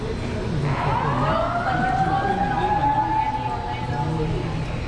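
An emergency siren wails with a rising and falling tone over steady traffic noise in Key West, heard from near a cruise ship, while people talk nearby.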